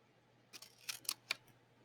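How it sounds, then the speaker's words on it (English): Scissors cut through two stacked pieces of paper, giving four or five faint, crisp snips spaced irregularly across a quiet background, close and soft, with no talking. "Cutting through both pieces of paper."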